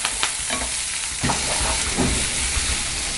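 Onions, curry leaves and green chillies sautéing in a pan on a home stove, a continuous close sizzle broken by scraping stirs from a spoon, with no voices.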